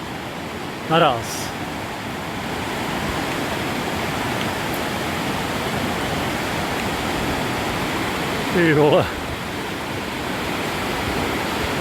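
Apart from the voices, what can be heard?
rushing river water under a swaying footbridge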